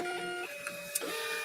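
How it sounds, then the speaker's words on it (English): A home printer runs through a print job, its steady mechanical whir and tonal hum carrying on for over a second with a brief click near the end, close and alone without talk. "I see you start to print as I unplug you."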